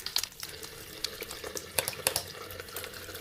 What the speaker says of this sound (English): Wet your hands under warm running water and add soap.